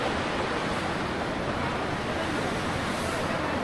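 River water in the Kangra Valley, Himachal Pradesh, rushes steadily and loudly, a dense continuous wash of flowing water with no break across the short stretch.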